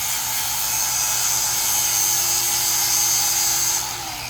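A handheld grinder whines steadily and loudly against a metal hinge being prepared for welding with a handheld welder, a continuous high-pitched grinding that holds for several seconds before tapering slightly at the end.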